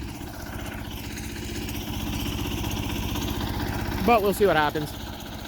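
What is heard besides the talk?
Sears Suburban garden tractor engine idling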